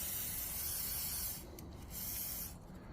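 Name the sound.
WD-40 being sprayed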